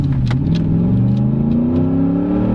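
A 2012 Ford F-150 SVT Raptor V8 engine revs loud and close, its pitch climbing steadily through a strong acceleration, with no talking.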